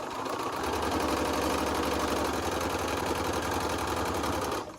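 A sewing machine stitches quilt block seams for a Southwest Snowball quilt, running as a steady, close mechanical whir for nearly five seconds before stopping abruptly. No one speaks.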